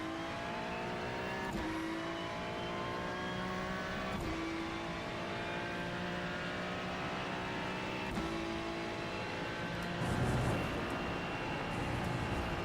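A race car at full throttle around Spa-Francorchamps in iRacing gives a loud, continuous high-revving engine howl that rises steadily, broken by sharp gear shifts every few seconds.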